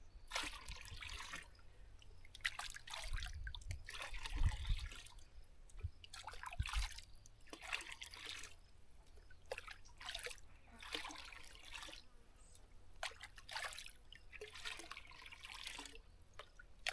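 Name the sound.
diluted liquid green fertilizer being poured into a container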